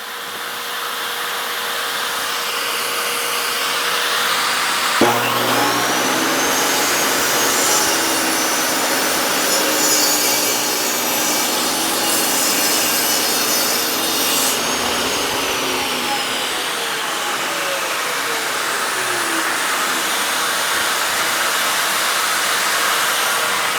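A table saw lightly trims the edge of a wooden board, its loud motor whining up to speed and then holding a steady, roaring cut for several seconds before winding down under continuous noise.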